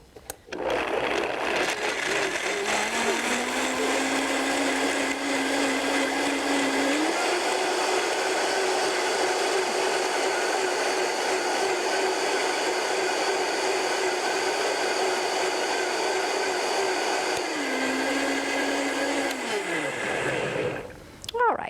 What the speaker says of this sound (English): So with a high power blender, it doesn't take too long.